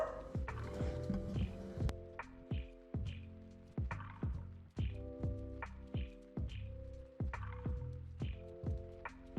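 A dog barks repeatedly and fairly close at a steady, insistent rhythm, roughly one sharp bark every second or so, with nothing else in the foreground.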